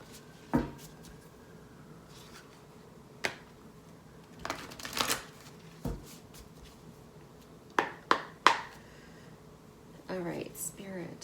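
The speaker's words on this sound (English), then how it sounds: "We're gonna pull the animal or the spirit animal oracle card." Oracle cards being shuffled in several short, crisp bursts of riffling and slapping, spaced apart with quiet gaps and light handling sounds between them.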